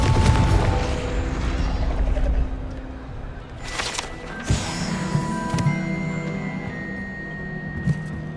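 In the video game Hogwarts Legacy, a Confringo spell blast lands as sharp, loud bursts, followed by mechanical clattering and scattered smaller impacts against a busy game soundscape.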